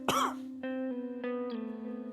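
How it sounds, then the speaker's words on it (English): One sharp cough opens the clip, followed by a few softer throat-clearing bursts over a steady tonal hum from the gameplay background. "Sorry for the coughing."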